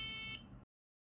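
A piezo buzzer on an EDU PICO learning board gives a short, bright electronic tone lasting just over half a second, close and clear, then stops abruptly into silence.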